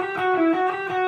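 Electric guitar playing a quick alternate-picked passage from a song, steady bright picked notes with a sustained ringing tone, short and moderately loud with no voices.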